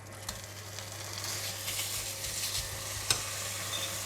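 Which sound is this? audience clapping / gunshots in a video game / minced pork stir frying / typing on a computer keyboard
minced pork stir frying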